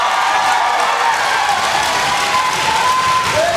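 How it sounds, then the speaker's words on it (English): At a judo Grand Prix, a big arena crowd delivers dense, sustained applause mixed with cheering, loud and steady throughout. "Lots for them to cheer about."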